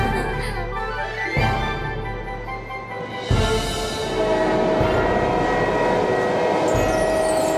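A cartoon flying train runs along with a loud, sustained rumbling drone and bright tonal whistle-like layers, pulsing in waves and rising after a sudden burst midway, with no voices.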